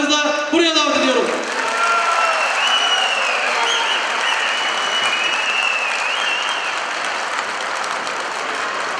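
A crowd at an AK Parti political rally in Çamköy, Fethiye applauds, sustained dense clapping that fills the space. A voice speaks briefly at the start, and faint whistles and shouts rise over the steady applause.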